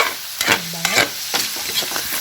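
Canton guisado, a stir-fried rice vermicelli dish, being stirred in a hot pan: quick scraping and tossing strokes over a soft sizzle, close and alone without speech.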